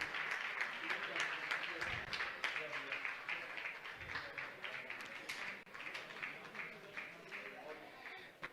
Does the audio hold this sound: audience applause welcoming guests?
yes